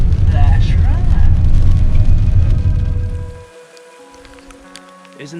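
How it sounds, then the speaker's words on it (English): Rain falls steadily and fairly close, drumming on surfaces, then drops away sharply to near quiet partway through, while voices talk. "But as you can see, it's raining."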